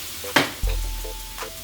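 Potato gnocchi land in a hot pan of wilting spinach, a quick scraping thud followed by a low steady sizzle with faint stirring knocks, close and fairly quiet.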